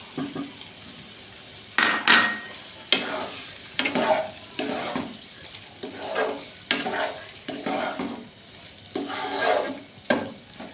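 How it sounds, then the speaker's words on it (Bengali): Potatoes and soybean chunks stirred in a pan, a series of close, rhythmic scraping strokes of a spatula against metal with a light sizzle underneath, roughly one stroke every second. "আলুগুলো দিয়ে আমি সয়াবিনটা নেড়ে দিলাম।"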